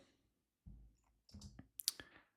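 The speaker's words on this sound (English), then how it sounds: "Let's hit spacebar." Spacebar pressed on a computer keyboard: a few quiet, close clicks and taps in quick succession, faint and alone.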